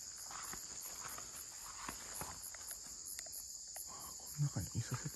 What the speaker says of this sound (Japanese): カエルが鳴いて